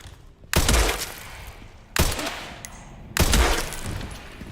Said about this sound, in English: I like the impact for that shot.